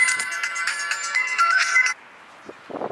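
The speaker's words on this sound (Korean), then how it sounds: "전화 왔다." A mobile phone rings with an incoming call, its loud melodic ringtone repeating steadily for about two seconds before cutting off, leaving faint room noise and a few soft sounds.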